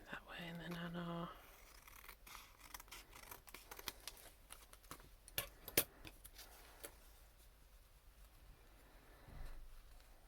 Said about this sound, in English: I'm going to do some trimming on the top. Trim that way